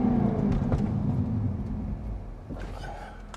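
A 2022 Jaguar F-Type P450 AWD braking hard, the engine note falling away into a low rumble as the car slows, with a brief scuffing burst near the end.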